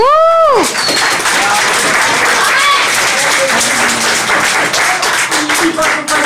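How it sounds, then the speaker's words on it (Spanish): Crowd at a cabaret night event bursts into steady, dense applause right after a short voice, the clapping sustained and fairly loud for several seconds with a few scattered vocal sounds. "Un aplauso para ella"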